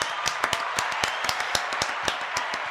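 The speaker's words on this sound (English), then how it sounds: "And the crowd goes nuts" A small studio audience claps for comedian Bob Dubac at a comedy round table show, a sparse, uneven patter of individual hand claps rather than a full roar of applause.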